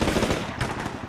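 A loud machine gun burst rattles in rapid continuous fire in Combat Mission Shock Force 2, a Marine ambush at dusk, dense and close for about a second.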